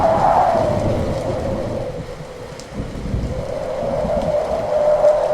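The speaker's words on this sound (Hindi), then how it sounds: "देखती ही देखती तेज आंधी चली" Steady rain with a deep rolling rumble of thunder running underneath, continuous and fairly loud throughout.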